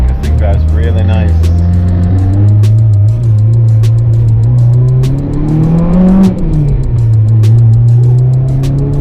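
Engine of a K-swapped Mini Cooper fitted with a muffler and resonator, droning steadily with a rev rise and dip midway, close and loud throughout while a voice talks over it.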